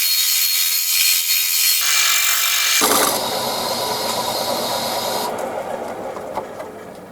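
A power sander running continuously on a wooden surface, loud and close, with a steady high whirring drone whose pitch and texture shift as it bears down on the wood.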